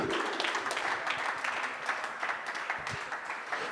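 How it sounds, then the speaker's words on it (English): Continuous applause fills a darts venue during the 2024 WDF World Open trophy ceremony in Hungary, a dense, fairly distant wash of many hands clapping for a finalist. "Keep the applause going for Jimmy Van Schie."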